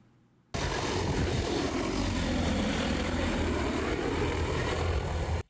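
An agricultural drone flies over a pineapple plantation, a loud, steady motor whine with broad rushing noise that starts abruptly and holds constant and close until the end, with no talk.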